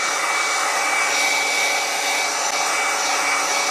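A hot air rework station blows steadily and loudly on a stepper driver IC chip being desoldered from a circuit board, a continuous broadband whoosh with a faint whine that holds unchanged throughout.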